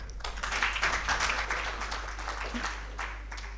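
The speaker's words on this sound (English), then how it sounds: "And let's clap for the panel." A conference audience at a national social protection dialogue claps for the panel, a dense burst of applause that swells early and then gradually thins out over a few seconds.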